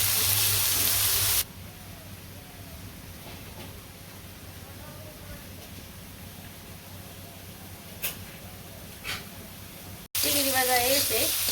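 Prawns frying in hot oil in a village kitchen, a steady crackling sizzle throughout, loud at the start and end with a quieter stretch in between and a few brief clinks.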